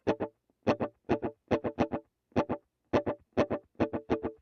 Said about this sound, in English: That's just that slapback delay.